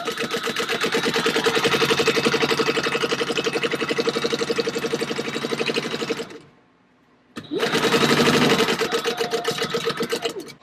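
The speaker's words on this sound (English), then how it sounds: "we're just going to sew across the top and sew this closed like that" A sewing machine stitching across the top of fabric at a four-stitch length, a loud steady whirring run of several seconds, a brief stop, then a second burst of stitching, close up with no talk.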